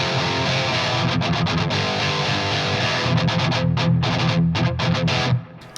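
Electric guitar with a bright, biting treble tone plays a run of clearly defined notes, sustained at first and then quick and choppy, loud and alone before cutting off at the end.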